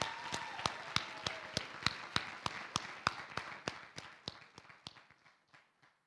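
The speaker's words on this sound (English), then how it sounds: "Could you please give them one more hand of applause?" An audience at a conference dinner keynote claps for the organizing committee, a sparse run of sharp, evenly spaced claps that thin out and fade toward the end, fairly quiet with no voices.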